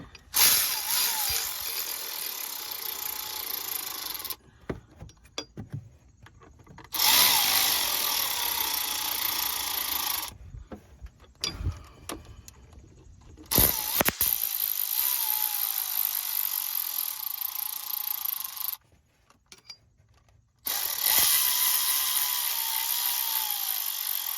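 Ratchet work on the water pump bolts of a Cadillac CTS, heard as bursts of mechanical clicking and metallic tool noise separated by short silent gaps, close and fairly loud, with no talking.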